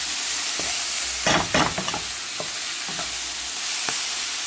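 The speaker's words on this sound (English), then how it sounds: "They all just stir down and cook down nicely." Tenderstem broccoli stir fry with curry powder and spices sizzles in a pan, a steady hiss broken by a cluster of loud scraping stirs and lighter occasional clicks of the utensil, close and without voices.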